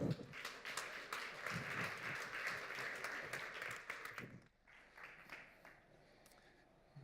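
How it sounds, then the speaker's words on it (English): An audience at a startup demo afternoon claps steadily for the next team, a dense wash of applause that fades and thins out into scattered claps near the end. "please give a great applause for our next team"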